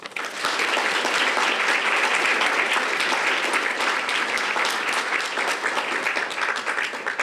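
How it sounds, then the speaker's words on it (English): A conference audience breaks into sustained, dense applause to welcome a speaker onto the stage, loud and even from start to finish with no voices over it. "Please help me welcome Mrs. Linda Hart with a round of applause"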